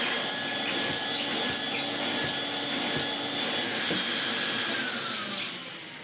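A restored vintage Kenwood A640 cylinder vacuum cleaner runs on a rug with a steady whining roar and faint rhythmic bumps as the head is pushed, easing slightly in pitch near the end.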